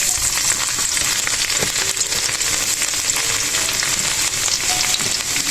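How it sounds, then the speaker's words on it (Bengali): Minced garlic frying in a generous amount of hot oil, a dense, even sizzle and crackle that holds steady throughout at moderate level, with no talking. "তো তেলের মধ্যে এবার দিয়ে দেবো কুচানো রসুন"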